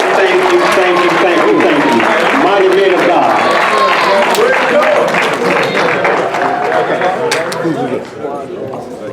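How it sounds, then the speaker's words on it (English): Applause and cheering from a banquet audience for soldiers at an awards event, loud and continuous with crowd noise, while someone talks over it throughout. "Let's get these mighty soldiers a round of applause"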